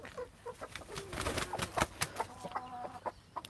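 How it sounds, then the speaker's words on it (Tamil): At a native country chicken farm, a rooster gives drawn-out tonal calls amid busy, close clucking from other birds in an irregular stream of sharp bursts. "சேவல்"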